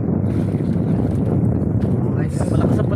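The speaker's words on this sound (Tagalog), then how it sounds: "malakas na palakas yung hangin guys" Strong wind buffeting a boat out at sea, a loud continuous roar with rushing noise and microphone buffeting, with voices talking through it.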